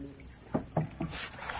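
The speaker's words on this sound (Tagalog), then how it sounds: "May kuliglig o yan mga cricket yun." Crickets chirping in a quiet mangrove forest at Sabang, Puerto Princesa City, heard as three short, faint chirps against a soft background hiss.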